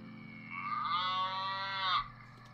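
A cow gives a single long, drawn-out moo through a drive-thru speaker in a chef simulation horror game, heard alone over a faint steady hum.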